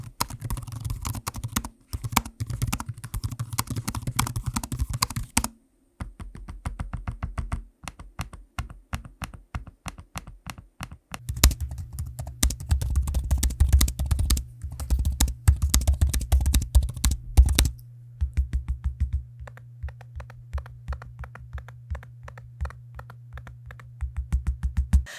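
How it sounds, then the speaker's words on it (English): Typing and trackpad clicking on two laptops, a Dell XPS 13 Plus and an Asus ROG Flow X13, heard as steady bursts of close, crisp key taps and clicks over a constant low hum. "Here's a quick sample of the audio of me using both the keyboards and trackpads on each of the laptops."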